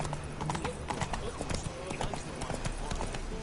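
Hooves of Roach, a horse in a video game, clip-clop in a quick, steady rhythm throughout, close and clear over a busy background with some voice-like murmur.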